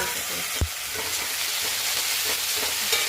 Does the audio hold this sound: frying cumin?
yes